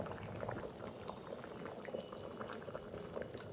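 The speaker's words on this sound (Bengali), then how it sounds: "মাছটা দিয়ে আমি মিনিট দুই তিন ফুটিয়ে নেবো" Snakehead fish curry with potatoes simmers in a pot, giving a soft, steady bubbling that runs quietly and evenly throughout with no talking.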